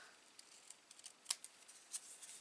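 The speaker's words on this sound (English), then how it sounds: "I'm just going to trim a little bit more off there" Scissors trimming paper for a Graphic 45 Imagine mini album, a handful of quiet, close snips spread unevenly over a couple of seconds in an otherwise still room.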